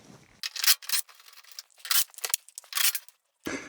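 Side panel of a clothes dryer being worked loose and removed, a string of scraping, rubbing metal sounds in short bursts separated by brief silences, close and fairly loud.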